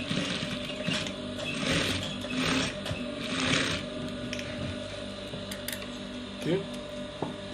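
A sewing machine stitching a straight line on trousers, a busy mechanical whir with ratcheting clicks and uneven bursts, close by and fairly loud, with a voice talking over it.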